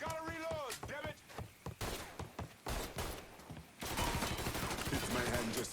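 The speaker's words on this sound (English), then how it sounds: "He's shooting the shit out of me!" Rapid bursts of gunfire in Mafia 3 Definitive Edition crackle in quick uneven volleys, dense and close, with a loud sustained stretch near the end; a voice talks briefly between shots.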